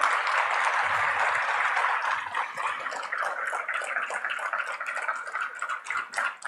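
An audience at the India Mobile Congress 2023 technology exhibition applauds to welcome Prime Minister Narendra Modi, a sustained wash of many hands clapping that thins slightly toward the end, with no talking.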